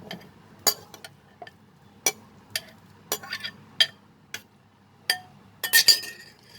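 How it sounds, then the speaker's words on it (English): Chopped mango pieces going into a blending jar, heard as a scattered series of sharp glassy clinks and taps, about a dozen irregular knocks of a spoon against the jar in a quiet kitchen. "I have taken a blending jar and I will put this chopped mangoes in this"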